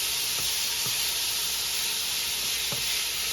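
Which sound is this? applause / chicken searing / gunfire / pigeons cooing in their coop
chicken searing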